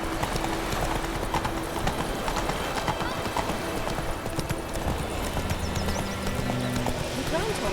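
Roach, the horse in The Witcher 3 video game, gallops with a steady clip-clop of hooves that runs throughout, set against a dense game soundscape, with a voice speaking over it and a brief whinny.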